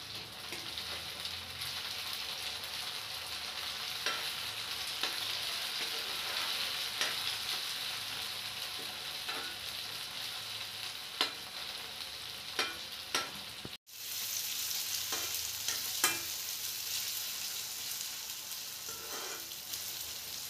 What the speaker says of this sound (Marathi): नंतर एका बारीक चिरलेला टोमॅटो घालून परतून घ्या.